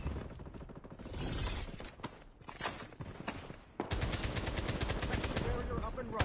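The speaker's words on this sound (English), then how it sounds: "I hear some shots and quickly take the enemy down" Loud, rapid gunfire in the shooting game Blood Strike: choppy bursts of shots at first, then a sustained stream of fast automatic fire.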